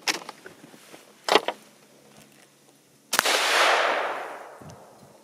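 A 7mm Rem Mag rifle with a 26-inch barrel fires a 120-grain round at a level 4 ceramic armor plate outdoors: a few faint clicks, then one sharp loud crack followed by a long rolling echo that slowly fades.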